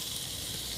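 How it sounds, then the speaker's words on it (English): Onions sizzling on a classic Aussie barbecue grill give a steady, close hiss that fills the moment without a break. "They're sizzling away."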